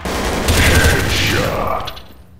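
A dense burst of automatic gunfire in Counter-Strike: Source, loud overlapping shots with a rumbling low end that rolls on for about two seconds before tailing off, with no voices over it.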